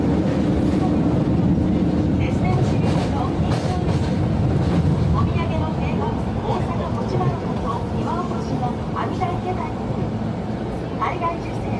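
A train runs on a rail line in the Tennoji area of Osaka, Japan, making a steady, fairly loud rumble and clatter throughout while people talk over it.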